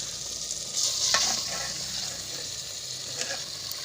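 Meat and tomatoes cook in a pot with a steady close sizzle and faint bubbling hiss, broken by a few soft scraping stirs, with no talking.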